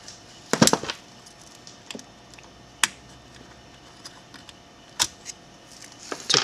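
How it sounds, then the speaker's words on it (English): A screw is backed out of a controller card on a repair bench, giving sparse small clicks and taps, one louder cluster near the start, then isolated ticks in quiet surroundings. "Take off the screw."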